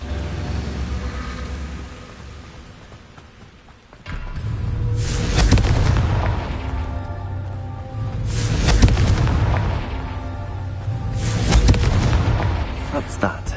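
Confringo fire spells in the Hogwarts Legacy game, going off as three loud booming blasts a few seconds apart, each a sharp crack trailing into a rumbling roar over a background game score.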